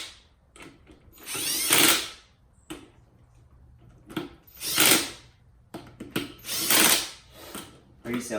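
Air impact gun tightening bolts on a UTV beadlock wheel, firing in three or four short hammering bursts with quiet gaps between, close and fairly loud.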